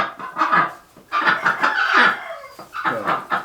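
A duck called Mrs. Ducky calls loudly and repeatedly in a flock of sick chickens being treated, with clucking around it, all close and busy, with bursts of noisy calling.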